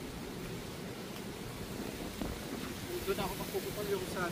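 Strong wind rushes outdoors in a steady, loud broadband roar buffeting the microphone, with faint voices rising near the end.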